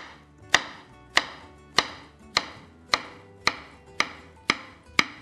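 A knife chops halved zucchini into small pieces on a cutting board, with nine sharp, evenly spaced strikes about every half second, close and clear with no talking.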